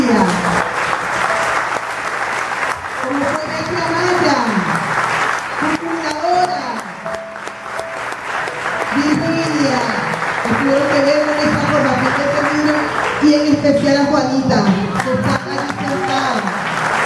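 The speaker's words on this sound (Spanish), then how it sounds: "también quiero dar un fuerte aplauso a estas tres mujeres" Loud, sustained applause from an audience fills a memorial gathering while a voice speaks over it throughout.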